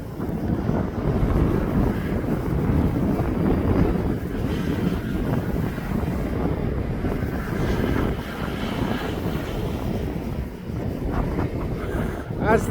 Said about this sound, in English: Ryanair for Dublin is now being pushed back off the apron for its departure.